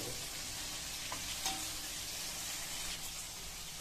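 Shallots frying in hot oil for sambal ikan asin, a steady quiet sizzle with a few faint stirring clicks, close and continuous with no voices.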